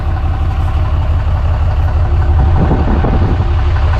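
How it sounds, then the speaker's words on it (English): A tuned Ram 2500 pickup truck with its stock exhaust idles in a low, steady, quiet rumble that stays even throughout. "this is what it sounds like after it's tuned with the stock exhaust"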